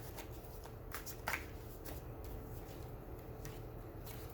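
Tarot cards being shuffled and pulled in a pick-a-card reading, soft papery riffles and flicks with a few sharper snaps near the middle, quiet and close with no talking.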